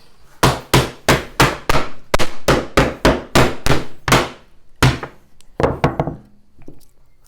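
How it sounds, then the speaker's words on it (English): A hammer head repeatedly pounds a wooden board to distress it, about a dozen loud, steady thuds in quick rhythm, followed by a few slower, scattered strikes, with no talking. "we're just going to kind of use the whole head of the hammer"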